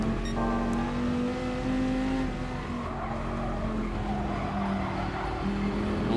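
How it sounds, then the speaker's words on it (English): Race car in Gran Turismo Sport braking hard into a corner, a long sustained tire squeal over the engine's droning whine, loud and continuous with the pitch wavering slightly as it skids. "I had to get on the brakes."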